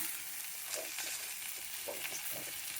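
Ivy gourd pieces frying in a pan for dondakaya pappu make a steady, moderately quiet sizzle with soft crackles and light stirring sounds, and no talking.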